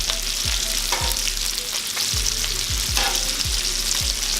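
Sausages fry on a 36-inch Blackstone griddle with a loud, constant sizzle, broken by repeated low thuds and scrapes of a spatula turning them at a steady pace.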